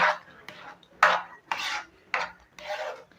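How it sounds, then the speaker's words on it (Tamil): A spoon scrapes through thick rava kesari semolina mixture in a pan: six or so close, rasping strokes at a steady, unhurried pace, with no speech. "நல்லா மிக்ஸ் பண்ணிக்கலாம் கொஞ்சம் அப்படி கிளறிட்டே இருங்க"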